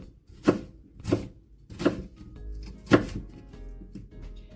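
Knife chopping food on a chopping board that sits unsteadily on something, four distinct sharp chops at a slow, uneven rhythm, close and fairly loud, with no talking.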